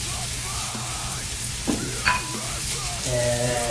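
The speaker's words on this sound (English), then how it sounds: "So let's go ahead and saute that up a little bit." Garlic, basil and parsley sauteing with wild mushrooms in a pan for a vodka sauce, a moderate sizzle with a couple of utensil knocks and a brief murmur of voice.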